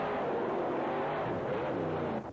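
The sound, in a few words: monster trucks racing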